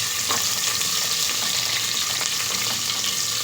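Onion and curry leaves fry in a pressure cooker on a stove, a loud, dense, steady sizzle with faint stirring clinks, close up and with no voices.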